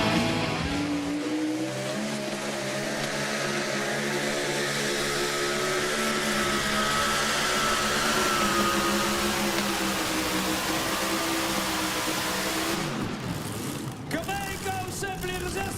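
Modified pulling tractor powered by four Chevy engines making a competition pull, a loud sustained multi-engine roar building steadily before shutting down near the end, with an announcer talking over it.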